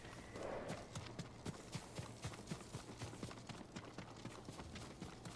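Steady clip-clop of horse hooves in the video game Ghost of Tsushima, a regular trotting rhythm of sharp hoof strikes, fairly close, with a faint background ambience.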